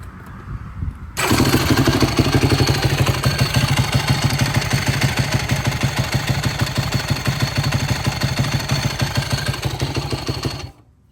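A Yamaha YFZ450 ATV with a leaking seal fires up after a second of quiet and settles into a loud, steady idle, its rapid even pulses chugging close by until it cuts off near the end.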